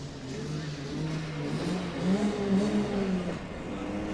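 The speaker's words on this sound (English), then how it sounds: "there you have that tradition of revving that engines before the last turn" Rotax Max kart engines revving before the final turn at a race in Windhoek, Namibia: buzzing, rising and falling engine tones from several karts, steady and moderately loud.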